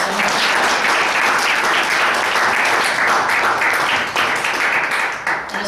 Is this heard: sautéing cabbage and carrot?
no